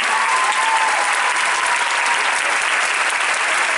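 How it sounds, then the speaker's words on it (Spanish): Loud, sustained applause from a large theater audience at a live show at the Gran Rex, dense steady clapping for the full stretch with no voices on top. "Un aplauso fuerte para Pablo."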